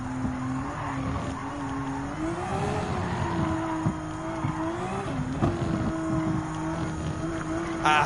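Race car driven in the video game Gran Turismo 7, a loud steady engine whine rising and falling with gear and throttle changes, with brief tire squeal near the end.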